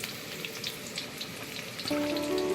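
Chopped onion hits hot oil with torn bay leaves, cinnamon and cloves while cooking beef tehari, giving a steady close sizzle with crackling pops that grows slightly louder near the end.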